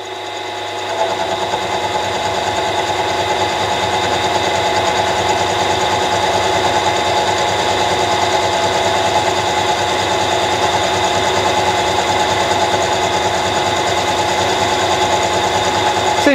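A metal lathe makes a steady, loud mechanical whir with a fast regular pulse while it cuts a workpiece for a quick change tool post at a 0.3 depth of cut, running unbroken throughout.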